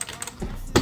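Typing on a GamaKay MK61 keyboard fitted with Gateron Optical Yellow switches, a few quick close keystrokes with one louder final clack, heard alone.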